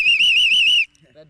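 A loud, shrill trilled referee whistle sounds close up for almost a second, then cuts off, followed by a brief faint voice.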